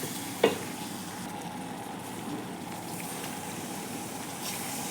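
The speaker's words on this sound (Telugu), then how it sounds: "ఈ రెండు వేసి తహీన్ అయితే నేను వేగించుతున్నాను." Ingredients sizzle softly in a pan while macaroni with mutton and béchamel is cooked, a low steady frying hiss with a faint clink near the start and no talking.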